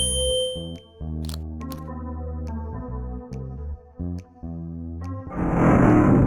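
A tuning fork rings out in the Willy Morgan and the Curse of Bone Town adventure game: a series of sustained, bright metallic tones with shimmering harmonics, stopping and restarting several times, ending in a burst of noisy whoosh.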